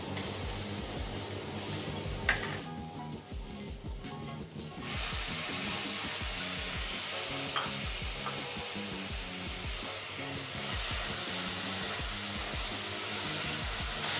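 Capsicum and tomatoes sizzle in a hot pan over a medium flame after onions have browned, part of a stuffed cheese mushroom dish; a steady, loud frying hiss runs throughout with small crackles scattered through it.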